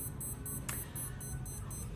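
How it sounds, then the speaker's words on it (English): A sports watch beeps during an abs workout, a series of faint, evenly spaced high electronic pips repeating steadily over a low background hum. "And after my watch stops beeping in our last 30 seconds"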